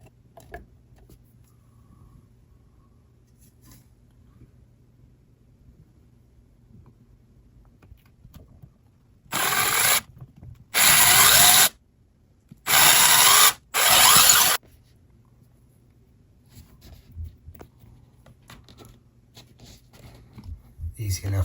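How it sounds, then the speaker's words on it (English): Four short, loud bursts of a power drill whirring as it drills a hole in a wall for an anchor, each a second or so long with brief pauses between, close by against a quiet background. "I'll drill it and then install the anchor."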